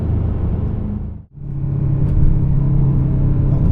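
A 2025 Aston Martin DBX707 SUV drives on a Tokyo street, its engine rumbling steadily and loud, dipping briefly then swelling back into a sustained drone with no talk over it.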